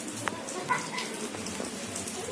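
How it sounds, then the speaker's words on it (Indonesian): Rain falls outside as a soft, steady patter with scattered drops, faint and continuous with nothing else prominent. "tapi di luar hujan"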